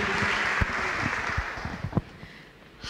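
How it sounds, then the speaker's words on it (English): An audience in a lecture hall at a summer school in Kyiv applauds to welcome the lecturers; a broad wash of clapping, with a few louder close claps, tapers off toward the end. "Please give a round of applause."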